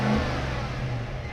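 A steady engine rumble from a 2021 Cadillac Escalade SUV exhaust, with low tonal drone and slight rise in pitch, close and loud throughout.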